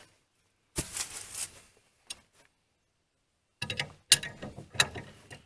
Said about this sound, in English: So take your adjustable wrench, fit it to the size.